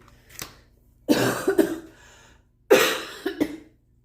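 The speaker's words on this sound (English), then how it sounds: "Excuse the cough." Two harsh, chesty coughs from someone with bronchitis, in quick succession, each a burst of rough bursts, close by with a brief pause between them and a faint earlier catch.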